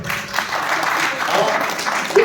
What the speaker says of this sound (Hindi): इस बात पे तालियां लगनी चाहिए